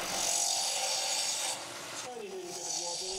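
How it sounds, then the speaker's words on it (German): A spindle gouge cuts a wood workpiece spinning on a lathe, making a steady hissing scrape that eases off midway and then returns, with a voice speaking over part of it. "Zum Drechseln verwende ich eine Spindelformröhre."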